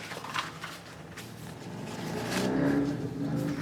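An engine rises in pitch and loudness as a motorbike approaches and passes outside, heard at a distance through background noise.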